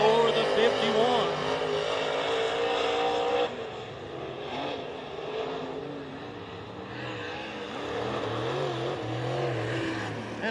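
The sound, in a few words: race car lapping at Wartburg Speedway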